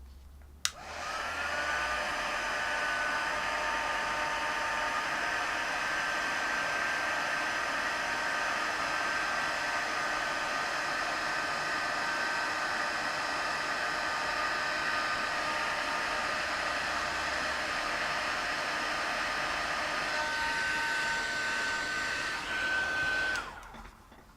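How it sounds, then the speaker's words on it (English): A heat embossing tool blows hot air over a cardmaking project, giving a loud, steady whooshing roar that runs unbroken for over twenty seconds and then cuts off, with no talking. "Right, I'm just gonna heat emboss. So cover your ears now."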